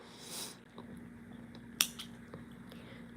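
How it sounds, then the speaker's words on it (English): Scissors cut crochet yarn in one quick, faint snip against a quiet room with a low hum, after a brief soft rustle of handling. "So let me just cut my yarn."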